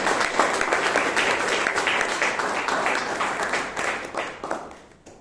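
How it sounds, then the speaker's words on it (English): An audience at a Toastmasters club meeting in Bangalore applauds steadily with dense clapping, holding strong for several seconds before fading out at the end. "Please give her a huge round of applause."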